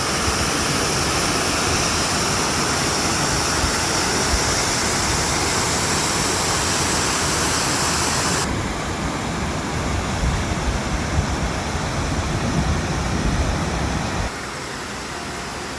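A waterfall in the Robert H. Treman State Park gorge pours with a loud, continuous broadband rush that holds steady, then drops to a softer roar partway through.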